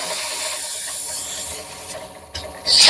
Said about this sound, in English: We'll hit it with some sandpaper here.